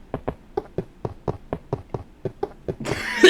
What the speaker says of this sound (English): It was then that I coughed violently